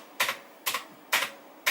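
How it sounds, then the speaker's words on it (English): Keys on an Alfawise V2 RGB mechanical gaming keyboard struck hard one at a time, four sharp close clacks spaced evenly with a brief springy ring after each. "you can kind of hear the spring sound radiating through the keyboard"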